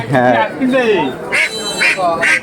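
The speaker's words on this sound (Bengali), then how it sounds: "নিয়ে আসছে তিনটা হাঁস" Several ducks at a village market quack close by in short nasal bursts, with people talking over and between the calls.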